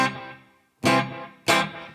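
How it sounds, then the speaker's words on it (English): Electric guitar run through a Headrush multi-effects unit with light slap-back echo delay, three loud chords struck in turn, each ringing out with a short trailing repeat. "This one is just a echo light, just a little bit of slap back."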